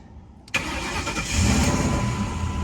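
A car engine that had sat unused for over two years cranks and fires up abruptly, then settles into a steady, close idle.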